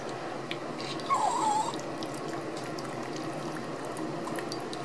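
Water runs steadily over a diamond or sapphire engagement ring to rinse off soap. The low continuous splashing stays constant the whole time, with a brief louder pour near the start.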